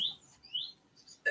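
Birds chirping in a short recording, with a few thin, high tweets and brief rising whistles spaced apart, fairly faint and heard alone with no talking.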